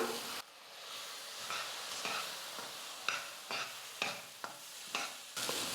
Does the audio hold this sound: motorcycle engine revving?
no